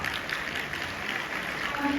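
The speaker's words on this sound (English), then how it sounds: "Let's welcome her with a big hand clap." Audience hand clapping to welcome a school principal onto the stage at a Children's Day program, a steady dense wash of applause throughout with no clear pauses.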